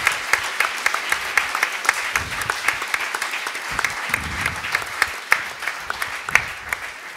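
Steady applause from a conference audience at a forum on issues and solutions for the bottom billion, honoring three heads of state, dense continuous clapping with scattered louder claps from nearby hands throughout.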